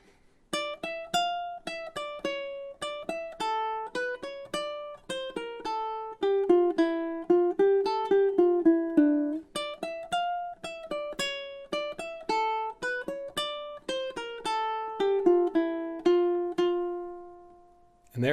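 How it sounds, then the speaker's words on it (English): Bach's Bourrée played fingerstyle on a ukulele, a continuous run of crisp plucked notes in flowing phrases with a few held tones, close up and alone, ending on a long ringing note. "there is the beautiful Bourrée by Bach, adapted on the ukulele using that fingerstyle technique"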